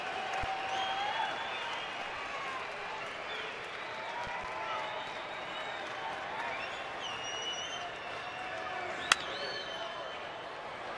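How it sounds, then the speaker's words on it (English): A large crowd at a Diamondbacks baseball game at Chase Field on a Wednesday afternoon fills the air with a steady, broad murmur of voices, scattered calls and whistles, and one sharp clap near the end. "Good crowd here at Chase on a Wednesday afternoon for some Diamondbacks baseball."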